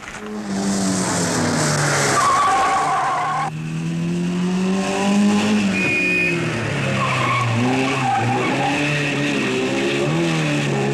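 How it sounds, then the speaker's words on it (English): Triumph rally car spinning during the 1958 Coupe des Alpes, loud sustained tire squeal and skidding over a revving engine that rises and falls in pitch, heard alone without talk. "And Annie Swabbo spun her Triumph."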